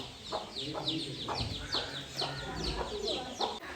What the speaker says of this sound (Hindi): ये मुर्गी और उसके बच्चे जो है ना पौधा खाने आ जाते हैं घड़ी घड़ी